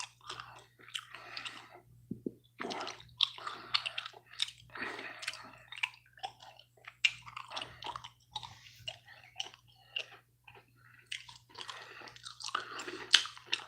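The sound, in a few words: chewing and crunching snacks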